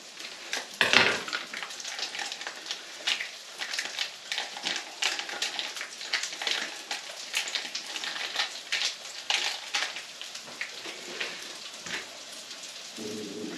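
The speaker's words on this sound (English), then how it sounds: "Now, mixing the sour cream." Sour cream being stirred while curried pork burgers cook, a soft irregular stream of wet clicks and patters against a bowl over a faint frying crackle, close and steady with no voices.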